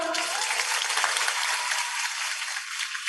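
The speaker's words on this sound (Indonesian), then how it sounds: "Tepuk tangan dong." An audience at a geography seminar breaks into bright, dense hand clapping that holds steady and then gradually thins.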